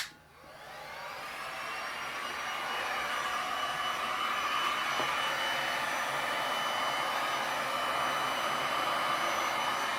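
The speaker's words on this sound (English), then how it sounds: "let me get my heat gun." A heat gun switches on and blows steadily over resin for a lapis-style StoneCoat slab, a continuous loud, close airy whir that rises quickly and then holds.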